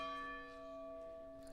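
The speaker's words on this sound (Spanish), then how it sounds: "las campanas nos indican que son las 12" A church bell tolls noon in a rural village, steady sustained ringing tones with long resonant overtones, fairly distant and faint.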